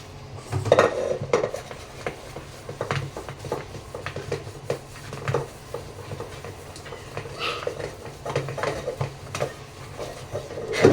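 Dishes, pots and cutlery being washed by hand at home, with steady clinks and clatters of plates and utensils knocking together close by, alongside running-water wash noise and no talking.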